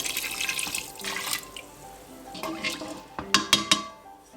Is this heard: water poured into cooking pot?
yes